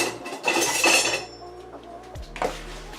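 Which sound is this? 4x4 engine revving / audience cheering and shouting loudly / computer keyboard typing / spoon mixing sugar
spoon mixing sugar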